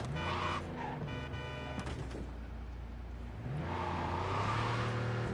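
A car in Cyberpunk 2077 speeds away with a loud engine roar that keeps building, revving up near the end, under no talking.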